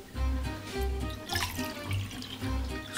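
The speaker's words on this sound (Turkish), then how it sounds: "Suyu üzerine yavaş yavaş ekleyeceğim." Water being poured slowly into a cooking mixture for chestnut kebab, a gentle uneven splashing and trickling that rises and falls in short pulses, close and fairly quiet.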